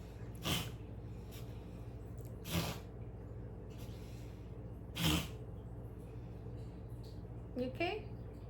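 Tino sneezes three times, at intervals of a few seconds, each a short, sharp burst over a steady low indoor hum.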